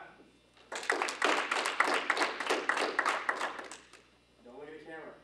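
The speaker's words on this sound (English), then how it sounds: "Let me get that clap, transition the clap" A burst of hand clapping on a film set for a scene transition, dense rapid claps for about three seconds close by, followed by a brief voice.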